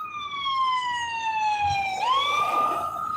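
An ambulance siren wails loud and alone, a long falling tone that sweeps back up halfway through, like a passing emergency vehicle.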